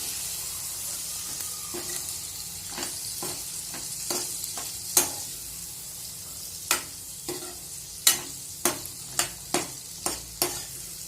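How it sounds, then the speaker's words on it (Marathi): Green peas stir-fried in a pan for a spicy onion and pea sabji, a constant close sizzle broken by sharp spatula taps and scrapes that quicken into a regular beat toward the end. "हे मस्त वटाणे पण व्यवस्थित परतवायचे आहेत आपल्याला"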